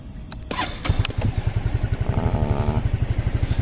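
A 2024 NSS 250 Forza scooter engine starts with a few clicks and a brief crank, then catches and settles into a steady, close, rhythmic idle.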